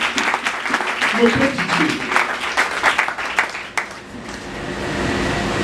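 A church congregation applauding during a Sunday service, a lively wash of clapping that fades out near the end into room hum, with a voice speaking over it.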